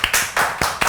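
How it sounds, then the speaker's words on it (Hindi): A few close claps ring out in a quick, uneven burst, sharp individual strikes with short gaps, as a small studio audience applauds guests on a talk show. "जोरदार तालियां हो जाए"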